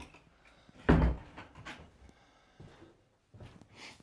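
A door to a small, musty garden outbuilding is pulled open with one loud knock and creak near the middle, then quieter shuffling and softer bumps follow close by.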